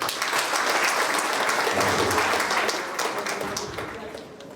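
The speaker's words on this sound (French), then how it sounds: "recevez sous un tonnerre d'applaudissements digne de son rang notre général de brigade Moussa Soumaré" Thunderous, dense audience applause at an interfaith dialogue and peace gathering, welcoming a brigadier general to the podium; steady and loud throughout, with voices mixed into the clapping.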